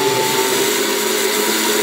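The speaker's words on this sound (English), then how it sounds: "Now blend it like a DJ dropping the sickest beats." A blender whirs steadily through a mix of eggs and flour, a loud, continuous motor drone with a faint high whine that holds without pause or change.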